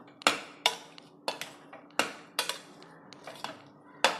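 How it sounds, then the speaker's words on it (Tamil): Cooked rice mashed with a metal utensil in a pot: repeated sharp clanks and scrapes in an uneven rhythm, about ten strikes, loud and close with no talk. "சாதம் நல்லா மசிச்சுக்கணும்."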